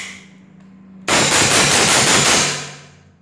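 A Cobra 360 semi-automatic air rifle fires one sharp, loud, close shot after a quiet lead-in. A bright metallic ring trails off over about a second.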